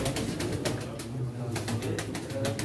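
Gökerçeği pigeons cooing at a Turkish pigeon auction, repeated soft coos under busy, noisy background chatter.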